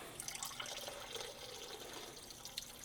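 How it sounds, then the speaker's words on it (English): Water poured into a mug, a faint, steady trickle with small splashy drips over about three seconds, heard alone without talk. "Pour some in my mug."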